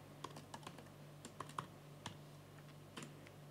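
Soft keys clatter on the keyboard of a base-model MacBook Pro 14-inch, with quiet, irregular clicks in short bursts and no voices.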